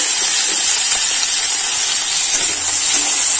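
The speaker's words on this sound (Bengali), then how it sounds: "কেটে রাখা আলু দিয়ে দেব।" Cut potatoes dropped into hot oil in a kadai set up a steady, loud hissing sizzle that holds evenly throughout with no voices.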